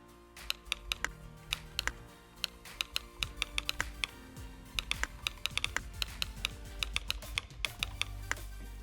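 Keys clatter on a computer keyboard in irregular bursts of close, crisp taps with short pauses, someone typing out a novel passage in an online typing exercise; no talking.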